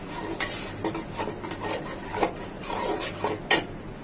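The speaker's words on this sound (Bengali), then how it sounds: "এটা এখন ভালো করে কষাবো, একদম ভাজা ভাজা হবে।" A spoon stirs and scrapes spices in a metal pan, with light clinks and a faint sizzle, steady and close, plus one sharp clink near the end.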